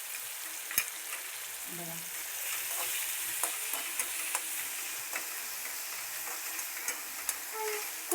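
Green chili, garlic and fenugreek greens fry and get stirred in a pan, with a steady sizzling hiss broken by scattered spoon scrapes and taps, close by and mostly alone apart from a single brief spoken word.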